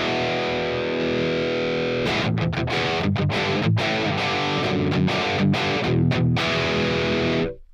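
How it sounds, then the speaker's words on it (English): Electric guitar played through the gain amp model of the PolyChrome DSP McRocklin Suite, a sustained distorted chord ringing out, then a run of choppy driven strums and muted hits before cutting off abruptly. "let's move over to the gain amp, the last one here,"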